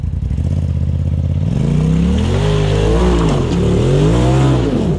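Off-road vehicle engine revving hard on the Cadillac Hill trail at Windrock, loud and close, climbing steadily in pitch and holding high with wavering throttle swells.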